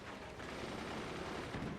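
Gunfire in the strategy game Forts RTS, a faint, dense crackle of rapid shots rattling continuously for a moment under a muffled wash of battle noise.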